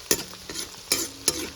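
Ginger garlic paste with onion frying in hot oil, stirred in a pan: a steady close sizzle broken by four sharp scraping strokes of the spoon at uneven intervals, with no talking.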